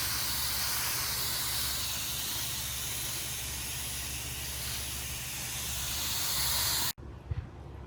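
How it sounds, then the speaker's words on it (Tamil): A steady, loud hiss of water spraying onto garden soil sown with spinach seeds runs for several seconds, then cuts off abruptly, leaving quieter background with a faint thump. "இப்போ தண்ணியை அதில் நம்ம ஸ்ப்ரே பண்ணலாம்"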